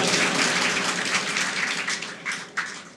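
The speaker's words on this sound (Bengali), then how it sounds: "আমরা একটা করতালির মাধ্যমে তাদেরকে অভিবাদন জানাই।" Audience applause greeting the organisers of an orientation programme for diploma engineering students, a dense, steady wash of many hands clapping through the whole stretch, with a few sharper claps standing out near the end.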